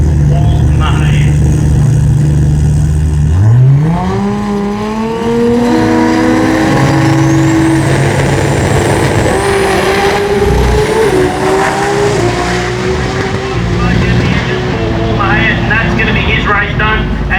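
Race cars at a Brisbane drag racing meet, including an orange BMW, roar down the strip with loud, continuous engine howl climbing steadily in pitch as they accelerate, under an excited commentator's voice.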